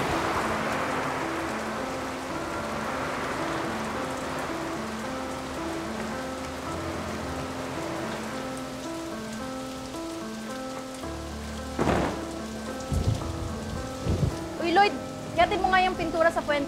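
Heavy rain pours steadily on a surface, a dense continuous hiss that runs throughout with background music playing beneath it and a few short voice sounds near the end.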